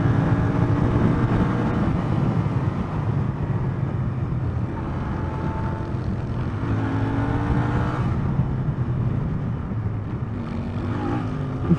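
Royal Enfield motorcycle, a Continental GT or Interceptor, with its engine running loudly and steadily throughout, rising and falling in pitch as it revs and shifts through gears on the road.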